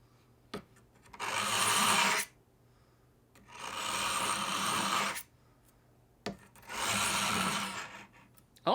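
A knife is drawn through a budget Amazon pull-through sharpener in three long, harsh grinding rasps separated by pauses, each stroke close and fairly loud, with small clicks between strokes.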